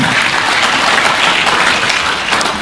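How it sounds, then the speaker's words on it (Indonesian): A church congregation bursts into loud, dense applause, a continuous roar of many hands clapping at full strength from start to finish. "Tepuk tangan dong buat Tuhan."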